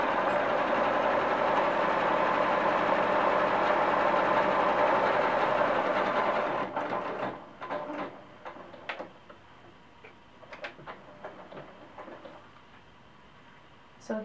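A sewing machine stitches a quarter-inch seam on a handmade cloth doll, running as a steady, fast mechanical whir for about seven seconds and then dropping to a few scattered ticks and clicks as it stops.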